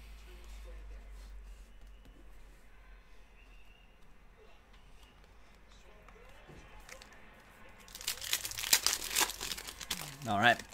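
Crinkling foil wrapper of a Game of Thrones trading card pack being torn open, a close, busy rustle and crackle that starts suddenly and continues to the end after a quiet stretch.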